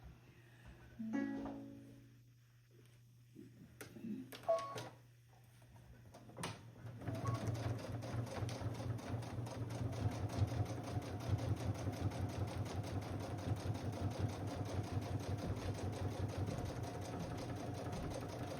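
A few scattered clicks and thumps, then a sewing machine with a 1/4 inch presser foot starts and runs steadily, stitching curved seams on an oven mitt with a fast, even mechanical rattle that continues to the end.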